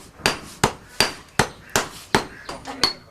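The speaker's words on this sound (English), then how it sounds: "These ingots are then flattened and bended by hammering" Bell metal ingots are hammered flat by hand: eight sharp, ringing metallic strikes in a steady rhythm about every half second, each followed by a brief decaying ring, close and loud with no talking.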